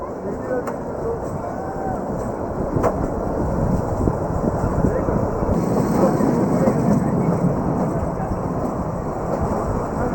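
A Kalka–Shimla toy train rolls steadily along the mountain line, a continuous rumble and clatter of wheels and carriages close by, with people talking over it.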